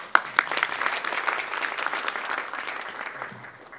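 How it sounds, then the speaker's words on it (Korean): An audience at a worship gathering welcomes a speaker with steady, moderately loud applause, a few sharp claps standing out at the start before the clapping holds evenly. "박수로 환영하겠습니다."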